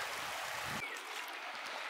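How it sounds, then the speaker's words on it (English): A Kentucky creek flows with a steady, soft rushing hiss, fairly faint and continuous, with no speech over it. "I can't get over just how beautiful this creek is."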